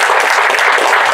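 Loud, dense applause from an audience at a Kannada movie trailer launch event, a brief burst of continuous clapping without speech.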